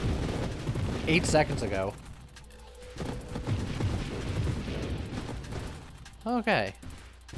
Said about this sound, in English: Big explosions happen all over the screen.